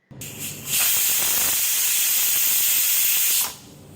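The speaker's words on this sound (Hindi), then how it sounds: "ये इसका प्रेशर निकल गया, अब मैं इसको खोलूँगी।" A pressure cooker holding beef trotters vents its steam in a loud, steady hiss that starts in short bursts, then holds strong and constant for about three seconds before cutting off.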